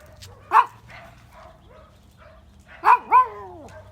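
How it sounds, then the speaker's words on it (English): Neighbourhood dogs left outdoors bark and yip in short bursts, one single woof then a quick double bark a few seconds later, fairly close over a quiet background. "And they're barking right now, so that's what Jack's barking at"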